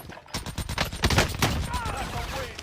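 Rapid nail gun fire in a multiplayer battle royale shooter, a dense run of sharp repeated shots heard close and loud, with players talking over the action.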